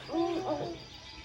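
A recorded owl gives two soft, quick hoots from a playback, fairly faint and with nothing else around it.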